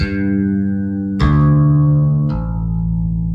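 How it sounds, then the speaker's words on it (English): An instrument with a shimmering chorus effect plays three long, sustained notes or chords in succession, each swelling in with a fresh attack, loud and up close. "Not sure if you can hear the chorus in that, but I definitely can."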